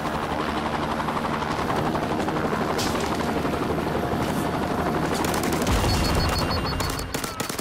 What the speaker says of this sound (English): Ah, Chinook!